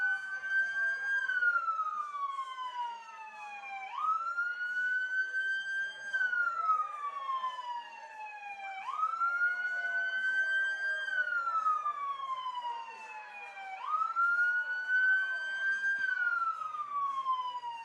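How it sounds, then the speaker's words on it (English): A wailing police or sheriff vehicle siren sweeps up and down in repeated slow cycles outside Dwyer Stadium in Batavia, steady and fairly loud, with no other sounds around it. "Got some sheriff vehicles, some police cars."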